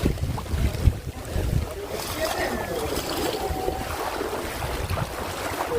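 Rain-fed floodwater rushing down a river in the Gudalur area, a broad continuous roar of surging water with wind buffeting the microphone and a few heavier thumps near the start.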